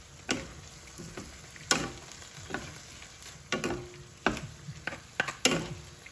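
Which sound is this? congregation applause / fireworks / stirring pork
stirring pork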